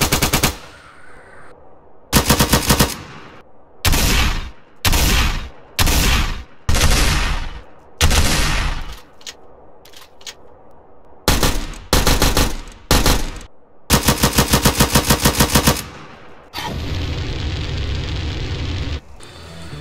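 Loud bursts of automatic fire from a modded weapons pack in GTA San Andreas come in rapid rattling volleys separated by short pauses, and a longer steady mechanical whir near the end.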